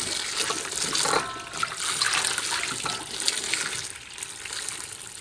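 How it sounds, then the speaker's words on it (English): Grapefruits and lemons scrubbed under running water in a sink, a steady splashing tap flow with brief rubbing and dribbling as the fruit is washed, close and continuous throughout. "Kind of give them a little bit of a scrub down, try and get any residue off the grapefruits and the lemons."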